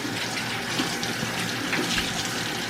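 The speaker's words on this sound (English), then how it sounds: "Wash my hands." Hands washed under a running kitchen tap while baking banana bread, a steady close rush and splash of water that continues without break.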